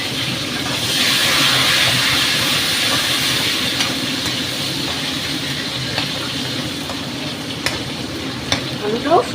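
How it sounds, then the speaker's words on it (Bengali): Potatoes frying in oil tempered with black cumin seeds, a steady, close sizzle with scraping stirs running through it and a few clinks of the utensil near the end. "আলুটাও সুন্দর করে ভাজবো।"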